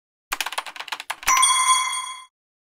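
A bright chime rings out after a quick run of tapping clicks, sustaining with a clear ringing tone for about a second before cutting off, fairly loud and close.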